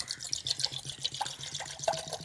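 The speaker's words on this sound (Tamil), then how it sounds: "கொஞ்சம் கூலிங் தண்ணியை ஊற்றிப்போம்" Cool water is poured out in a home kitchen while a lemon is prepared, making light splashes and uneven trickling drips in irregular bursts, close and fairly quiet.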